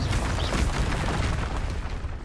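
A Confringo explosive spell blasts in Hogwarts Legacy, a loud, close, booming burst with a rumbling tail that fills the whole moment.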